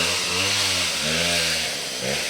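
A chainsaw cuts wood close by, its engine droning loud and rising and falling in pitch as it bites into the timber and eases off.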